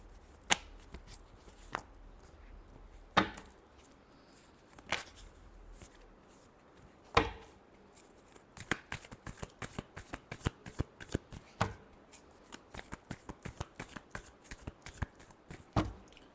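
A tarot deck gets shuffled nearby, starting with a few spaced card slaps, then building into rapid, continuous riffling and flicking over the second half.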